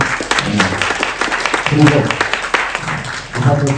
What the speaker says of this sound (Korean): 힘내라고 박수 한번 드리고 싶습니다